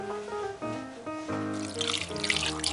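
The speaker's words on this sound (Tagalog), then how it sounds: "Lagyan po natin ng tubig." Water poured into a pot of pork tails set on low heat, a steady close pouring and splashing that brightens and builds toward the end, with tonal background music running underneath.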